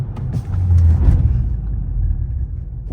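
A 2013 Dodge Charger R/T AWD fitted with PowerStop Z26 performance brakes stops hard from 40 mph. A loud low road and cabin rumble swells, then gradually fades as the car slows.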